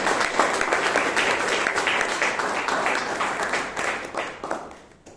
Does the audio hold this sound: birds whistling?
no